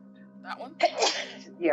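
A person sneezes once, sharp and close, in the middle of a tabletop role-playing game session, with people talking just before and after it.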